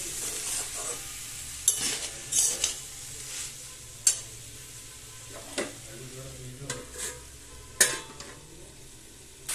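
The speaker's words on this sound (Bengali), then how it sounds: "একটু নাড়াচাড়া করে এটা আবার 5 মিনিট ঢাকা দিয়ে রেখে দেবো।" Drumstick flower curry frying in a pan and stirred with a utensil, giving a soft steady sizzle broken by about ten sharp scraping clacks against the metal, close and fairly quiet, with no talking.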